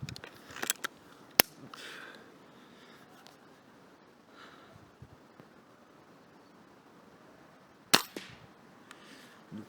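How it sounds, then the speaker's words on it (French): Gamo air rifle fired outdoors: two sharp, loud cracks stand out, one early and one later, over a quiet background with faint scattered noises. "ça fait un bail que je n'ai pas tiré avec la Gamo"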